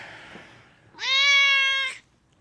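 A cat gives one loud, clear, drawn-out meow lasting about a second, close by and alone against faint background noise.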